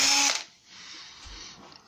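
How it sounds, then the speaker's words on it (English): Power drill boring through a wardrobe carcass, a short loud burst of high whirring that cuts off after a fraction of a second, followed by quieter handling noise. "I just need to drill just to the side a little bit."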